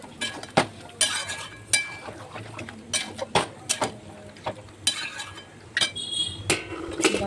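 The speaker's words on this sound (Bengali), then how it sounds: "তারপর এবার মাংসটা আমি ভালো করে নাড়চাড় করে মশলা দিয়ে ভালো করে কষিয়ে নেব।" Chicken meat is stirred with spices in a pan, the spoon scraping and clinking against the metal in an irregular run of sharp, close knocks, with sizzling between strokes.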